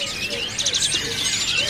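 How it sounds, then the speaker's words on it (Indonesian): A tame Australian parakeet, or budgerigar, at a bird market stall chirps in quick warbling bursts, fairly close and clear over a low background murmur. "Ini ada burung falak ya, atau parakeet Australia."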